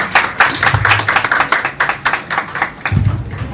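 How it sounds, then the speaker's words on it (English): Audience applause greets Maureen Montagne, Miss Globe 2021 and an international model, at a Miss Universe pageant event. Brisk, dense clapping runs for several seconds, with a low murmur of voices rising near the end. "So, round of applause for Miss Maureen."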